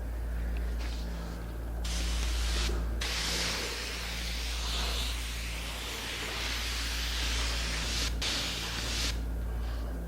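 Spray gun laying finish along a taped edge on a hanging cupboard in a woodworking shop, a steady close hiss with a few short pauses between passes, no talking.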